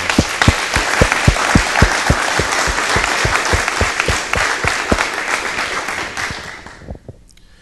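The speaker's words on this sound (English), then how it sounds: "So let's give him a round of applause." Audience at a mayoral debate in Harrisburg, South Dakota, breaks into loud applause with some distinct, rhythmic claps standing out over the crowd, fading out toward the end.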